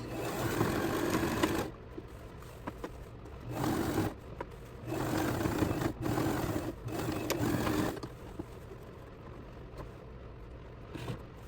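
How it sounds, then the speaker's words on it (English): A sewing machine back stitches over an open seam on a fabric bag in several short bursts of rapid mechanical stitching, with brief pauses between them. "I add back stitching over the open seam just to reinforce it"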